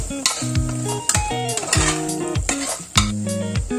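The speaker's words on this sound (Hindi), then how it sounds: "हा सर्व घेवडा जो आहे छान परतून घ्यायचा आहे मसाल्यामध्ये." White beans are sautéed in masala in a pan with repeated sharp scrapes and clinks of a metal spatula against the pan over a soft sizzle, in an irregular rhythm close to the listener.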